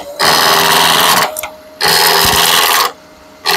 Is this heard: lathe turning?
yes